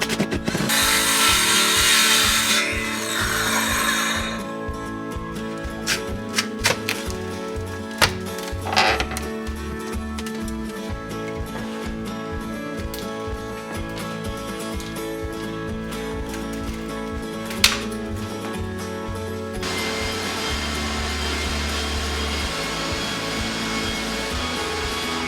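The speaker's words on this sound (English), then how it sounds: "using a power sander and some hand sanding, we were able to get it to quite a smooth surface" A power sander sanding set concrete drones steadily for the whole stretch, with scattered knocks and scraping bursts over its grinding hum.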